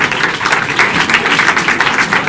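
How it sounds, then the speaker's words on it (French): An awards ceremony crowd applauds a football player honoured at a National 3 trophy night, producing a loud, continuous wash of many hands clapping with no talk on top. "vous pouvez l'applaudir s'il vous plaît"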